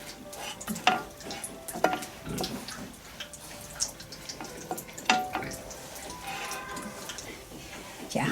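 Eggplant is stir-fried in hot oil, producing soft sizzling broken by repeated bursts of scraping and tossing at an uneven rhythm.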